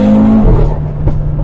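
Audi RS3 with a five-cylinder engine tuned to 500 horsepower revs loud and close, a steady droning engine tone that drops into a rougher, rumbling roar.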